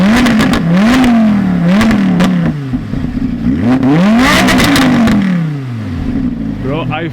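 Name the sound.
Audi R8 supercar engine revving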